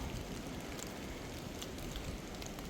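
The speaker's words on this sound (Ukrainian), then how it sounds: "Вже вечері, дощ почався знову." Steady rain falling outdoors in the evening during a coin search, a constant broadband patter with scattered drop taps, even and continuous throughout, with no talking.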